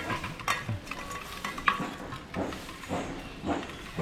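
Prawns cooking in a pan are turned over, giving scraping stirs and light sizzling beside a creek. The clatter is irregular and close, with faint background noise and no talking.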